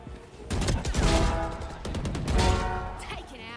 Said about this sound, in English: such an Xsleeve headshot right there